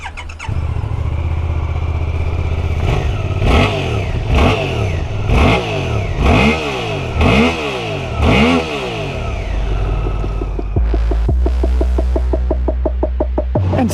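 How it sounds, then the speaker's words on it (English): A 2023 Suzuki GSX-8S motorcycle engine idling close up, then revved repeatedly in sharp rising and falling bursts before settling back to a fast, rough idle. "let's get started with a quick sound check"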